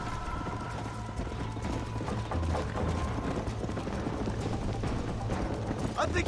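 Horses gallop in a video game race, a rapid, continuous clatter of hoofbeats under background game ambience, with a sharper flurry of hooves near the end.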